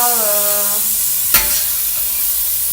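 Marsala wine is added to stuffed mushrooms with garlic cooking in a pan over medium-low heat, giving a steady close sizzle and hiss with a brief splash-like burst partway through.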